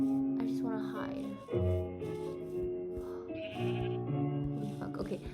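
Several bleats from Minecraft sheep ring out close by, wavering one after another. A voice talks over them at times, and game sounds sit in the background.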